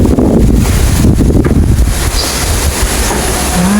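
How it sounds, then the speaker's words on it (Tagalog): Strong wind roars across the microphone at a plantation with passion fruit vines, a loud, continuous rushing buffet with gusty surges throughout. "Grabing hangin."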